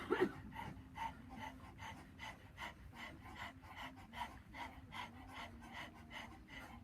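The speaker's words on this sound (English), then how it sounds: "Tongue is out, and we're doing breath of fire" Rapid rhythmic panting of breath of fire in a Kundalini yoga exercise with the tongue out, quick even puffs repeating steadily and quietly, close up.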